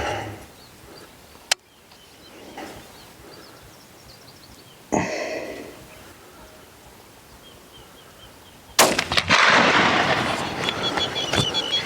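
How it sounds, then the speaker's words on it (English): A rifle is fired at a 14 ft crocodile in Zimbabwe: one sharp, sudden crack stands out over quiet outdoor ambience, followed later by softer thuds and a rush of wind-like noise. "just put a backup shot in his shoulder"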